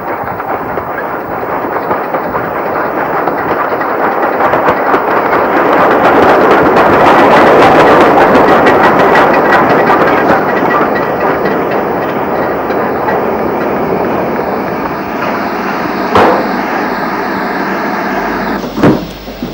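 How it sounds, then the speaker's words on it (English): A passenger train bound for Denby pulls in beneath a road bridge on a rural branch line, a rumbling roar that swells to a peak midway, then eases into clicking wheels and a couple of sharp knocks near the end. "A train for Denby arrives under the road bridge"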